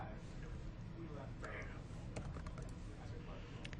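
Typing on a computer keyboard while entering search terms in medical imaging order software, heard as scattered light key clicks against a steady background hum, with no talking.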